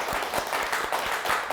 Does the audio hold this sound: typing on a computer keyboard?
no